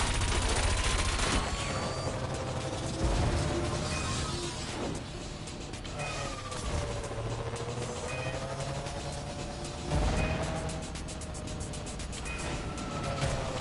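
Bomb weapon explosions in the Wipeout futuristic racing game, several heavy bursts that boom out at irregular intervals over a continuous whining hover-craft engine drone.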